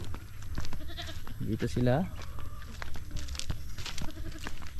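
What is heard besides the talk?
goats bleating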